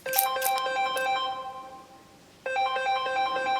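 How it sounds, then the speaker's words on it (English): A phone ringtone plays for an incoming call, a bright repeating melody in two loud bursts separated by a short pause, with no one talking over it. "Sounds like I'm getting a phone call."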